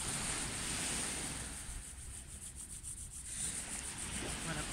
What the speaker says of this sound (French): on va déjà frotter les mains